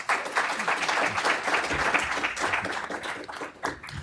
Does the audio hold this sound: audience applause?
yes